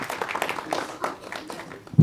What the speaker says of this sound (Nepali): यसरी जोरदार ताली उहाँहरूका लागि